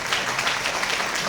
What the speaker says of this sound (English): Big round of applause for Mr. Rakesh Kumar